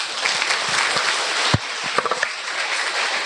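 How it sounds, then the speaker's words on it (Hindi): Crowd applause at a Brahma Kumaris stress-relief spiritual gathering in Shahabad Markanda, welcoming the brothers: steady dense clapping from many hands with a few sharper claps standing out. "ताली बजाकर भाइयों का स्वागत।"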